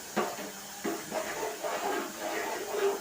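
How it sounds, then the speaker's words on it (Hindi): Rice boiling in a covered pot over a high gas flame gives a steady hissing, bubbling sound with soft repeated bursts, close by and moderately loud. "चावल ढबक रही है यहाँ पर, मतलब उबल रही है"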